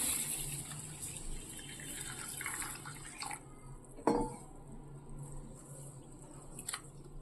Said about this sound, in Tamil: நல்லா கழுவிட்டு அரிசி ஒடியாது இப்படி நல்லா நம்ம கழுவிக்கலாம்